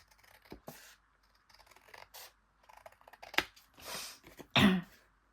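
Scissors cutting envelope paper up close: a few scattered snips, then louder crunching cuts building to one strong final snip, with no voice.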